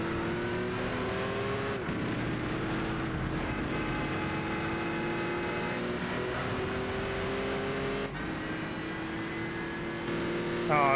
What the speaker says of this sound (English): There's a Dodge Viper sounding really mean behind you.